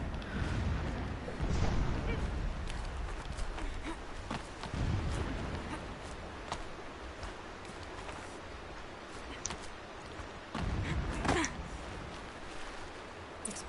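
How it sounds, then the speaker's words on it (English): Distant explosions in Horizon Zero Dawn, several low muffled booms spread across the stretch with rumbling decay, mixed with game ambience and a voice talking. "Explosions in the distance."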